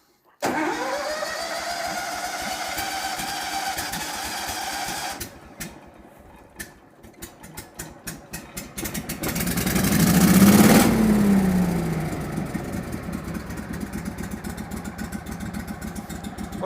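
A Hurricane leaf blower engine cold-starts after a few short pulls, sputtering briefly, then catches and runs with a loud droning roar that swells and settles into a steady idle, close to the microphone.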